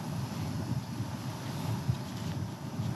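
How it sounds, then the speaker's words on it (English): A Windburner camping stove roars in gusty wind outdoors, a loud, rough, continuous rushing burn with fluttering wind buffeting the microphone throughout. "Oh, that's the wind burner."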